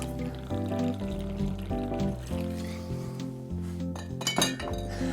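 Dark rum is poured into a glass at a bar for a snow cone cocktail, with sharp clinks of glassware and a soft trickle of liquid, close and fairly quiet with no talk.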